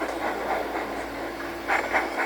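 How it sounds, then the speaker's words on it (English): Cartoon steam tram rolling along railway tracks, a steady rumbling clatter with a few rhythmic puffing bursts toward the end, moderately loud and without speech. "Out of my way, Toby, you old steam tram."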